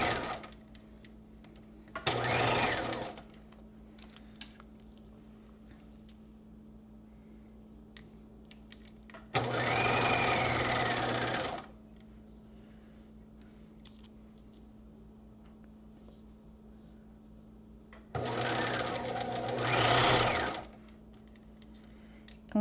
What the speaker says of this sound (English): starting stitching out that circle, again using my zigzag